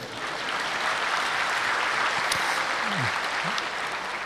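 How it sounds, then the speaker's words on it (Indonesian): An audience claps at an Islamic sermon, a dense, even wave of applause that holds for several seconds, with a few brief murmuring voices underneath. "Kita berikan tepuk tangan dulu ya."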